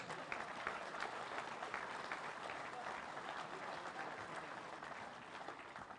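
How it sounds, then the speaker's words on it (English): A rally crowd claps steadily throughout, a dense, even wash of applause at constant loudness with some voices mixed in underneath. "Give them a round of applause."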